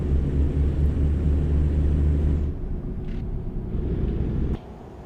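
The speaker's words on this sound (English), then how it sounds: "it's a 550 horsepower Cummins X15. It's the actually the vanilla engine for this truck." An International 9900i truck with a 550-horsepower Cummins X15 engine in a truck driving simulator gives a loud, low droning rumble, which drops midway and quiets further near the end.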